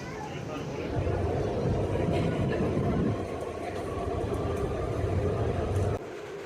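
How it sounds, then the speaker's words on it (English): An Elizabeth line train emerges from the tunnel and arrives at Stratford station with a loud, steady rumble and rail clatter that fades sharply near the end. "my train emerged from the depths and arrived at Stratford station"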